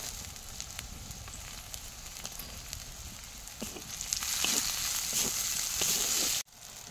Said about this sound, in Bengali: কেটে রাখা টমেটোটা দিয়ে দেব।